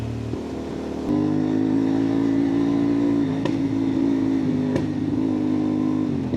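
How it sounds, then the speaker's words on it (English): A CFMOTO 450MT adventure motorcycle with its exhaust dB killer removed rides through the Blue Mountains, picked up by a helmet mic as a steady low engine drone that grows louder after the first second and holds with slight swells. "without DB cooler, feeling like the bike sounds a little bit better"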